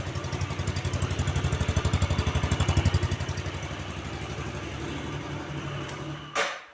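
A motorcycle engine runs close by with a loud, rapid pulsing rhythm as it is revved, then settles into a steadier idle, ending with a brief sharp clatter near the end.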